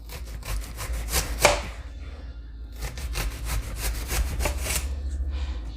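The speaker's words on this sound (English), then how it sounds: "I usually like a lot of onions in my rice. So I'm going to cut quite a bit." A knife chopping through a pile of onion rings on a board, a fast run of crisp cuts, a short pause, then another quick burst of chopping, close and clear.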